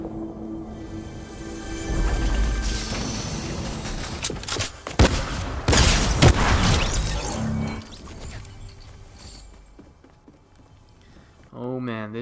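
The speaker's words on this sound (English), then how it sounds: "Oh man, this tactical shotgun is so slow." Tactical shotgun blasts in Fortnite: a few loud, sharp shots with crashing impacts in the middle of a dense stretch of game noise, fading to quieter ambience afterward.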